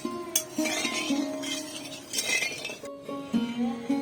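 Sugar and water are stirred in a wok to make syrup, giving repeated metallic clinks and scrapes of a utensil against the pan at an uneven pace, with tonal background music underneath.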